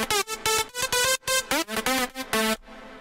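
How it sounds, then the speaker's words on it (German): Electronic dance music drop melody with filters and an equalizer applied, playing as bright, bouncy synth stabs in a choppy rhythm, loud and alone, with no voices, before cutting to near silence at the end. "Also der Drop hört sich so an."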